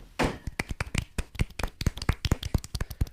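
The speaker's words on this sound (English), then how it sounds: "Golf clap for all of our characters" Soft, sparse hand clapping rings out close by during a podcast-style children's story narration, with a dozen or so dry, uneven claps spread over a few seconds and no talking.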